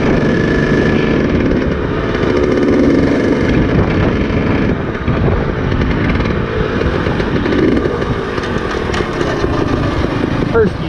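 A street-legal two-stroke motorcycle engine runs on the road, a loud, buzzy, continuous drone with wind rushing over the microphone throughout.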